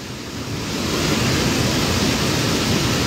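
The swollen Kajia river rushes in flood, a loud, continuous roar of churning water that swells and holds steady without pause.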